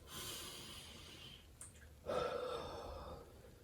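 One slow, deep breath is drawn in and released during a calm grounding exercise, soft and close, as a long airy inhale followed by a steadier exhale, with no talking.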